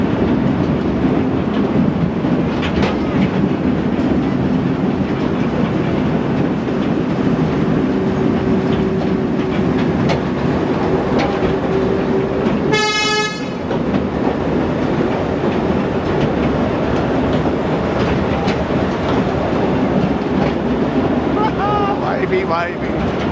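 A train rumbles past steadily in Bundaberg, Queensland, with rhythmic clattering of wheels, a brief sharp squeal of brakes midway, and voices chatting faintly throughout.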